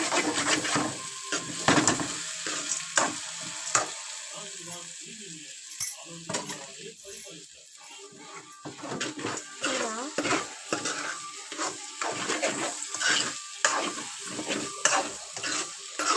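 Coarse rock salt fries in a pan and is stirred steadily, giving a soft sizzle broken by repeated scraping clinks and rattles of grains against the metal, close up and fairly quiet.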